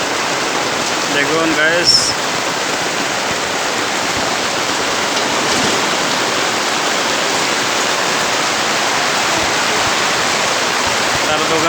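Heavy night rain in Bangladesh pours down and rainwater flows into a shop, making a loud, dense, continuous roar. Someone speaks briefly over it at the start.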